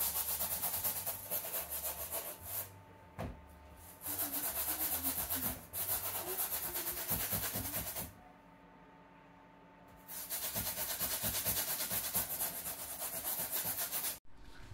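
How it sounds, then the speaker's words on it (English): Stiff bristle brush dipped in cleaning solution scrubbing hard on the dirty soles of Yeezy sneakers, loud close rasping strokes in bursts with brief pauses between. "take your stiff bristle brush, dip it in the solution, and just go hard on it"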